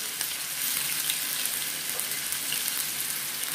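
Ginger sizzles in hot oil as it is added to a frying tuna masala with onion and garlic, a steady dense crackle holding at one level throughout.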